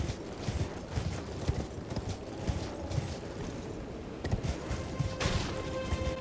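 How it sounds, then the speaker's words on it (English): Horse galloping across open ground in the game Elden Ring, a steady rapid clip-clop of hooves running throughout at close range over a busy background. "Oh, got yourself a horse, have you?"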